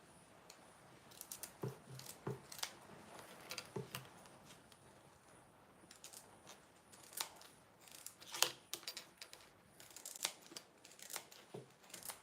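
Scissors snip through material while trimming a zipper head, giving a string of short, crisp cuts at an uneven pace, close and fairly quiet, with light handling clatter between them.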